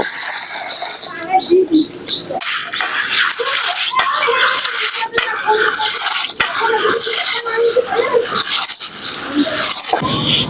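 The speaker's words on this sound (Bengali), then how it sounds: "এখন আমি এই সয়াবিন বীজটাকে পরিষ্কার জল দিয়ে ধুয়ে নেব" Soybean seeds washed by hand in clean water give wet swishing, rattling and dripping sounds with occasional sharp knocks against the container, while a person speaks over the activity.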